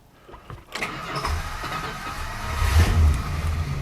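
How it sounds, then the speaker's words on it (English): A 1972 Chrysler New Yorker with a 440 V8 cranks with the starter and catches, then settles into a deep, loud, rumbling idle close by. "gotta love your Chrysler starter"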